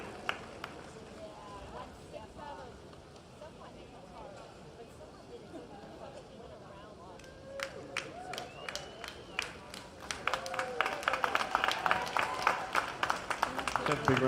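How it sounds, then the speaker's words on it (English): Scattered clapping from a crowd at a masters track cycling world championship builds into steady applause, with a voice speaking over the murmur of people. "Big round of applause for all our 70-74 men"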